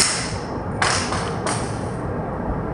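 Small pen dropping onto a floor, two sharp light taps about a second apart over a quiet hushed room background.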